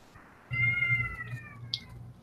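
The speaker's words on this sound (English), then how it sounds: "That was a cat." A cat outdoors gives a single drawn-out meow, faint and distant against a quiet background, ending in a short higher squeak.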